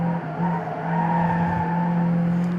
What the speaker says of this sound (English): We're sliding, that's gonna cost us.